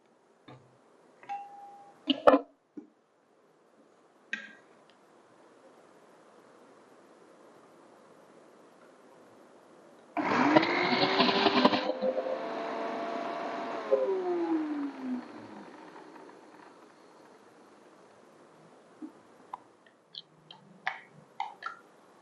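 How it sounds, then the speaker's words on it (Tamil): A mixer grinder grinding coconut with a little water whirs loudly for several seconds, starting abruptly and winding down, between quiet kitchen clatter and clicks. "இப்போ இந்த தேங்காயை அரைத்துக்கிறேன்"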